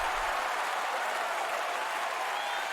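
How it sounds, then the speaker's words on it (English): A crowd cheering in a video game makes a steady, dense roar of applause-like noise that holds evenly for under three seconds, with no talking. "The sound of people, you know, cheering and so on."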